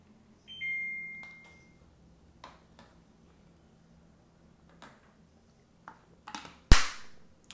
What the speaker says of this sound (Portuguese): Deixa eu ligar o ar.